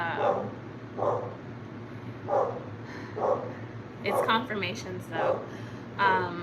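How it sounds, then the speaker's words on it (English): A pet dog outdoors barks to be let back inside, its short muffled barks repeating every second or so at a distance while someone talks close by. "my dog is barking to get back inside"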